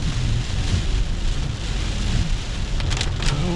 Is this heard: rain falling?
yes